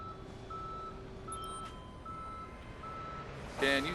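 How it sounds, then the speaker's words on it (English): A tow truck in the police patrol video game Police Simulator: Patrol Officers sounds its reversing alarm, repeated electronic beeps under steady engine hum, ending with a louder burst near the close. "Tow truck will arrive at your location shortly, officer."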